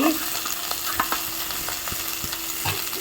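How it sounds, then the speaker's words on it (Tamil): Onion, tomato, coconut, curry leaves and tamarind sauté in a pan, a steady close sizzle and frying hiss with occasional stirring scrapes and taps of the utensil. "எடுத்து நல்லா வதக்கலாம்."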